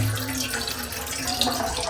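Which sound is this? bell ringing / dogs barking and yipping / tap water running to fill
tap water running to fill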